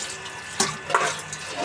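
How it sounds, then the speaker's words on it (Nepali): Running water from a tap splashes steadily as vegetables are washed, with a couple of brief sloshing bursts partway through, close and alone. "अब चाहिँ मैले यसलाई चाहिँ राम्रोसँग धोएर"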